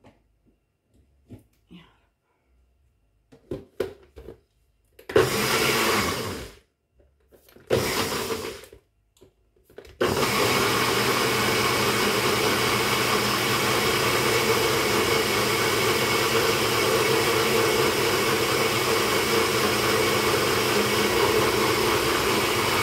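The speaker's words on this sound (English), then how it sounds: "It's going to blender again." A kitchen blender mixes a homemade skin care cream. A couple of short whirring pulses lead into a steady, loud, continuous roar that runs to the end.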